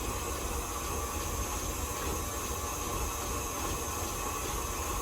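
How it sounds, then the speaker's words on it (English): KitchenAid stand mixer beating tea cake batter, a steady loud whirring drone with constant broadband churning and no pauses, running alone throughout. "That's good about these KitchenAid. They'll beat up whatever you want to mix up."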